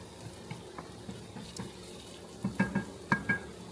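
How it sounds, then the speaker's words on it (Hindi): Onion and garlic frying in a pan for a Rajasthani-style okra curry: a soft, low sizzle broken by scattered clinks and scrapes of stirring, with the clatter growing busier toward the end. "प्याज पका रही है, लहसुन डाल दिया है"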